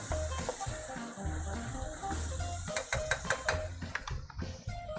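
A mixture cooks down in oil on a stovetop, a soft, steady sizzle with scattered crackles and a few clinks of a utensil stirring against the pan near the end.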